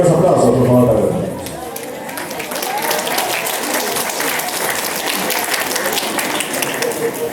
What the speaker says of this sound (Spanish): y los aplausos, por favor